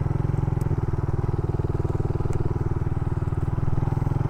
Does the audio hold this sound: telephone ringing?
no